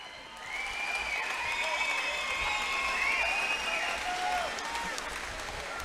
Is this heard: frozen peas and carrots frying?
no